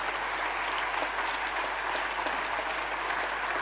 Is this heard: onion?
no